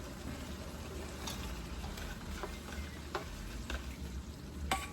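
Shrimp sautéing in a pan with already-softened tomatoes for ginisang ampalaya, a steady low sizzle with occasional sharp crackles and a few light utensil clicks, close and continuous without talk.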